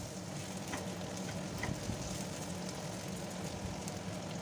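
Chopped onion frying in oil with bay leaves, a steady, even sizzle and crackle with occasional soft stirring, continuous and close throughout.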